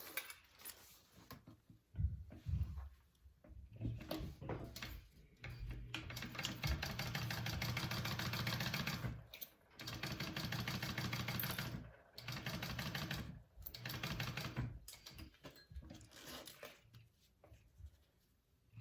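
A sewing machine bastes a zipper onto a bucket bag in bursts of rapid, even stitching, separated by short pauses and small clicks as the fabric is handled, fairly quiet and without talk.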